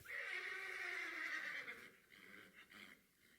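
A horse gives one loud, close whinny that holds strongly for about two seconds, then breaks into shorter, fading snorting calls.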